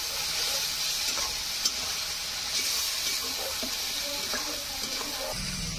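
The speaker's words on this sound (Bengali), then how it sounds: "ভালোভাবে মশলা দিয়ে কষা দেব।" Ginger-cumin paste and spices sauté in a hot pan, giving a steady, fairly loud sizzling hiss throughout, with faint clatter and scattered background noises underneath.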